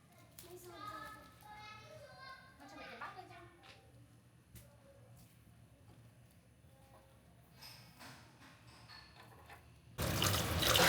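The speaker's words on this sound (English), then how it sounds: "the shallots and ginger are cleaned with water" Water runs and splashes gently in a sink as grilled shallots and ginger are rinsed by hand, with soft handling noises, then a louder rush of water at the end.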